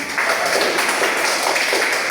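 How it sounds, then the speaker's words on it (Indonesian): A classroom of students claps for a classmate, a brief burst of dense, even applause that fills the room without pause. "Kita tepuk tangan untuk Dona."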